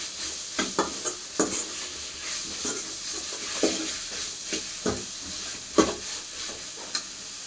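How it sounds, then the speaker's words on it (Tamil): Potatoes sautéed in a pan for an Indian vegetable potato kurma, giving a soft steady sizzle with repeated sharp scrapes and knocks of stirring throughout; no voices. "உருளைக்கிழங்கு 5 நிமிஷம் நல்லா வதக்கிக்கலாம்."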